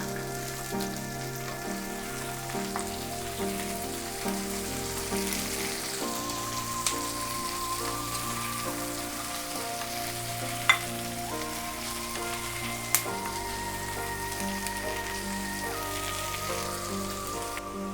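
Chopped onion sizzles in a pan of frying garlic, making a steady crackling hiss that runs throughout under soft background music, with a couple of sharp clicks partway through.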